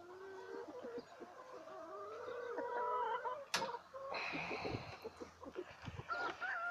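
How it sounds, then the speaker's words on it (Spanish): Laying hens and a Pedrés rooster cluck in a mobile chicken coop, soft close clucks and short calls scattered over a few seconds with a brief sharp clatter, under quiet talk. "Aquí está mi gallo Pedrés."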